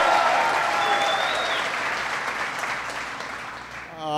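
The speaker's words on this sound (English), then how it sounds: "Give him a big round of applause." A crowd of workers at the Toledo Assembly Plant applauds the mayor, a big sustained burst of clapping that slowly fades toward the end.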